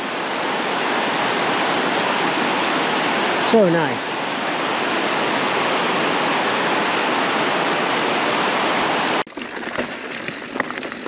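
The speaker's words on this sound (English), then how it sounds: "Beautiful waterfall." Steady, loud rush of a waterfall in Dupont State Forest fills the scene for about nine seconds, with a brief voice speaking over it before the roar cuts off abruptly near the end.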